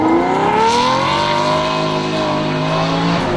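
A Lamborghini Diablo engine sings at high revs, its loud, steady tonal roar with clear harmonics easing slightly in pitch across a few seconds before cutting off abruptly.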